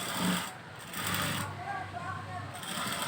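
A sewing machine stitching the piping onto a blouse gives a steady motor whir with a brief pause partway through, and a voice talks over it.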